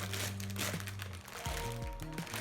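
Baby bottle packaging being opened, with plastic crinkling and crunching in steady bursts close by, over low tonal background sound.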